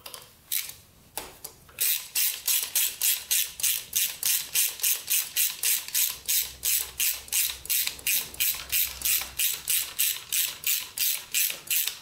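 A ratchet clicks steadily as it backs spark plugs out of a Honda CB350 motorcycle that sat for years, a close, rapid, even run of metallic pawl clicks in regular bursts for most of the stretch after a short pause.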